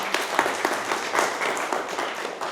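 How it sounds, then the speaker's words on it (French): A church congregation applauding visiting guests during a service, with quiet, steady clapping from a crowd filling the short moment. "simplement vous honorer, vous applaudir, et merci d'être ici."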